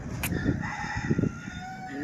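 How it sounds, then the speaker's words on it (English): Chickens crow and cluck in Key West, a short, moderately distant burst of rooster calls that is partly masked by steady background noise and a nearby voice. "You see the chickens over there?"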